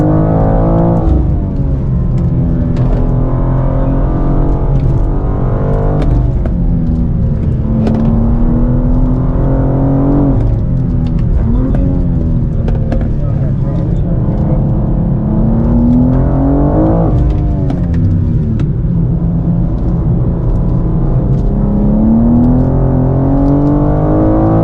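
A 2024 BMW M2 with an 8-speed automatic is driven hard on a race track, its engine droning loud and continuous with rising and falling revs through gear changes.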